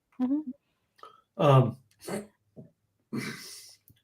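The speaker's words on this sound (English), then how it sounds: "As usual, now I have hiccups on the show." Several short, abrupt hiccup-like bursts from a person tasting drinks, irregularly spaced over a few seconds, close and fairly loud with no words in between.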